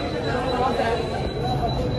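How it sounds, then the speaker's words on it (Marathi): A departing train rumbles steadily nearby with a continuous rolling roar and a faint thin high whine, while people chatter in the background. "ट्रेन रिटर्न चालली आता परत लास्ट टाइम."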